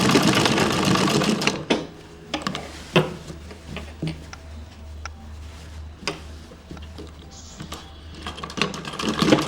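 Sewing machine stitching a gathered, wrinkled pant, with a steady close mechanical chatter that runs through the whole stretch, punctuated by sharp ticks and short bursts as the fabric is fed.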